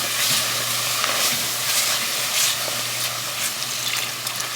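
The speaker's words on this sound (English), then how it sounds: "start adding it little by little, mixing it up" Vegetable broth is poured in a little at a time and stirred into a creamy cauliflower soup, giving a steady close sloshing, sizzling wash with soft scraping strokes throughout and no talk.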